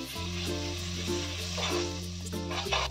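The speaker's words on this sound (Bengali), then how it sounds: "কড়াই প্রথমে আমি একটু বাটার নিয়ে নিচ্ছি।" Butter melting in a hot kadai gives off a soft, steady sizzle, faint and continuous, under a sustained tonal hum that shifts in pitch now and then.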